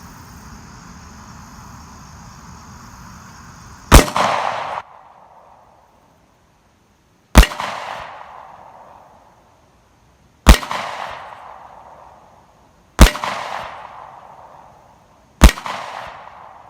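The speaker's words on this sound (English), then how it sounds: "I'm going to put 5 rounds into it" Five sharp, loud handgun shots from a SCCY CPX-2 9mm fired at a target, each a crisp crack with a ringing decay and spaced about three seconds apart, following quiet background noise.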